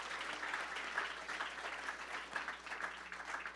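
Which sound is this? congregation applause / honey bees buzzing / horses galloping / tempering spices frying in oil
congregation applause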